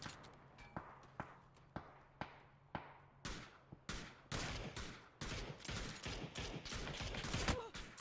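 Gunfire in the battle royale game PUBG: spaced single shots give way to denser bursts of rapid fire, loud and close throughout.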